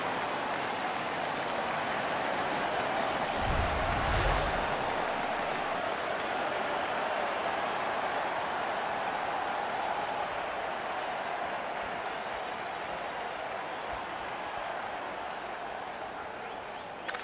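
A large home arena crowd in the NHL 15 hockey video game roars steadily after a fight, a dense continuous wash of cheering and applause that stays loud for the whole stretch and tapers slightly near the end.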